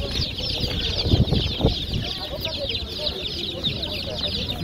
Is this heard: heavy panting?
no